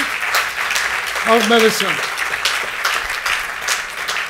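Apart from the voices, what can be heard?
audience applause at awards ceremony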